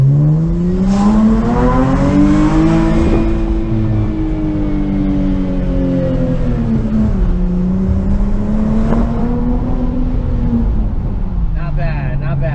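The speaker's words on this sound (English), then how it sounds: "We're gonna use the paddle shifters for first gear." A Dodge Charger GT AWD V6 with its rear muffler deleted pulls hard in manual mode using the paddle shifters, its loud exhaust drone rising in pitch through gear changes for about twelve seconds from inside the cabin, with a voice briefly talking.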